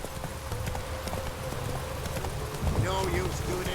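Rhythmic clip-clop of horse hooves at a gallop in the video game The Witcher 3, close and steady over rain-like background noise, with a brief voice near the end.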